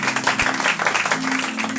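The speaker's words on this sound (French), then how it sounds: "ça applaudit le Seigneur." A church congregation applauds in a dense, steady burst of clapping, loud and close, with a voice faintly under it.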